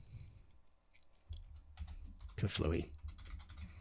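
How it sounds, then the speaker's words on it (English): Typing on a computer keyboard while coding, with quick irregular clicking keystrokes up close and a voice briefly speaking over them. "I'm already bored at typing this stuff out"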